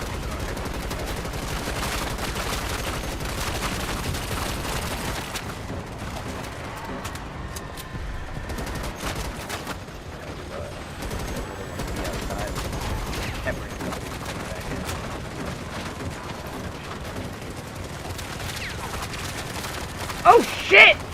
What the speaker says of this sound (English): you can fire your gun while you're firing your grenade